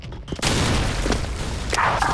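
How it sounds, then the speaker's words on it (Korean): Grenade blast in the online shooter Special Force, a sudden loud boom that becomes a dense rumbling roar lasting about two seconds, with a brief higher burst near the end. "전방 수류탄"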